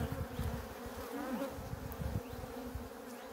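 Agitated honey bees swarm around an open hive in an Ardahan apiary in October, a restless colony low on stored honey, their dense, continuous buzzing steady and close with no voices.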